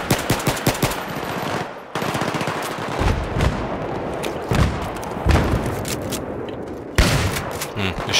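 Rapid automatic fire from a suppressed MK11 Mod rifle in the Battlefield 3 Aftermath multiplayer game, dense bursts of close shots with a few heavier booms, running continuously for several seconds with brief pauses between strings.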